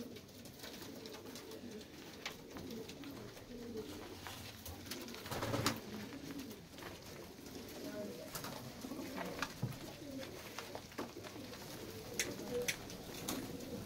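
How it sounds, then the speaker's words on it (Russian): Baku pigeons, a collection of pure-bred wide-tailed birds, coo softly in low repeated calls against a busy background, with occasional sharp clatters and knocks mixed in. "Да, голуби Баку."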